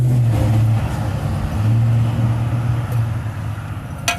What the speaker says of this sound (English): there's a bunch of lowrider cars passing by